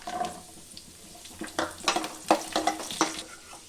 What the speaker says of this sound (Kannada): ದ್ರಾಕ್ಷಿ ಗೋಡಂಬಿನ ನಾನು ಫ್ರೈ ಮಾಡ್ಕೊಬೇಕು ಇದರಲ್ಲಿ